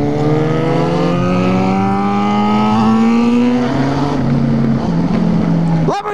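A Lamborghini engine revs, its tone climbing steadily over several seconds into a loud, sustained drone before easing off, with a sharp transient at the very end.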